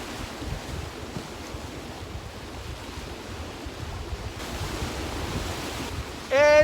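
Ocean surf off the coast of Okinawa, a steady broadband wash of waves with some wind noise, close and continuous, before a short loud burst at the very end.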